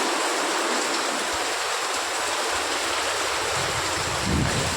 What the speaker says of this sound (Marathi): पाऊस पडत सुरुवात झालो बघा